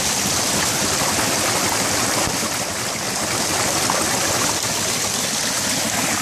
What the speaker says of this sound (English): I added a 90 degree elbow to capture more water, and this thing is spinning.